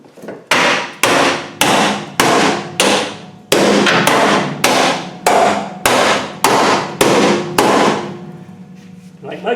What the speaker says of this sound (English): A little bit of a tappet round here with a hammer.